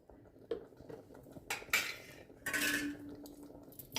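Ghee is stirred into vegetable moong dal khichuri with a spoon, giving a few soft scrapes and clinks against the pot and a brief louder rustle near the end.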